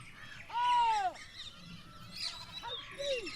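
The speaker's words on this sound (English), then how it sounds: "Territorial fighting, which is a very common phenomenon in animals to show strength and dominance, but a rare activity to sight and watch in peacocks." Peacocks fighting over territory give loud, honking wail-like calls, one long call near the start and a shorter one toward the end, with fainter rustling and background bird sounds between them.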